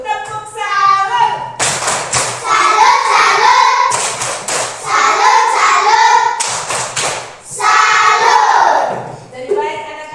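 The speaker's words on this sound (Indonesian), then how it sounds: "Kita tepuk salut untuk kita semua dulu." A classroom of children performs a rhythmic clapping chant led by a teacher, voices singing in bursts punctuated by sharp, patterned group claps and pauses, close and lively.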